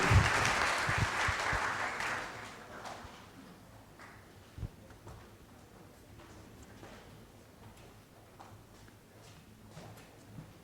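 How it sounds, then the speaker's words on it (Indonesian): Audience of new students at a faculty welcoming event applauds: a burst of many hands clapping that fades quickly after two seconds into faint room noise with a few scattered taps. "Kita berikan tepuk tangan sekali lagi"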